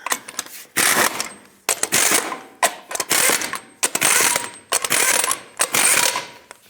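Lug nuts are being run down on a 2003–09 Toyota 4Runner front wheel, a loud, close ratcheting and rattling that comes in several bursts with short pauses.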